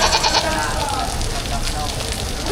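Goats bleat at a busy livestock market in Padre Garcia where cattle, goats, carabao and horses are sold, a short nasal call up front followed by crowd murmur and people talking nearby.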